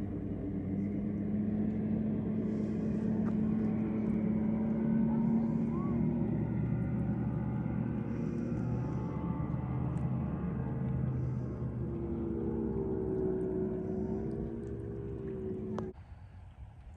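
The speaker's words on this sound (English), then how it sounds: "That's what we heard that boat just a second ago heading out into the lake" A steady motorboat engine drones continuously, its pitch shifting slightly as it heads away across open lake water, with faint voices near the end.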